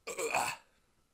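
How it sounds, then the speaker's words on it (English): A single short burp from a man, loud and raspy, lasting about half a second before fading into quiet. "give me one more chance to burp like that"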